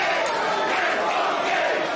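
A wrestling crowd roars steadily for Nick Gage in his match against RSP, a dense, continuous wall of cheering and shouting that holds at full volume for the whole stretch.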